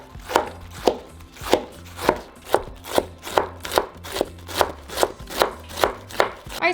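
A knife chops cabbage finely on a cutting board for curtido, sharp evenly spaced strikes about two per second, close and clear with no talking.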